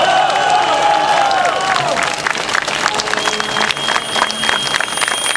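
Protest crowd at a legislature sit-in applauding loudly and continuously, dense clapping throughout with a rising tonal sound at the start and scattered voices beneath.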